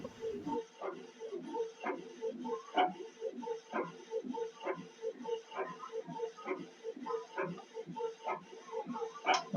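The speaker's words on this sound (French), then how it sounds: "c'est l'imprimante qui est en train d'imprimer par exemple la facture" An office printer prints an invoice from a school management application, giving a steady run of rhythmic mechanical clicks and whirring pulses, close and moderately loud, repeating about once a second with no talking.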